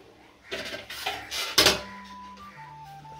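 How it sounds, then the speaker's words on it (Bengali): A metal lid set onto a cooking pot in a home kitchen, with a few light clinks and clatters followed by one sharper metallic clank, then a faint ringing tone as it settles, fairly quiet and close. "এবার আমি ঢাকা দিয়ে দেব।"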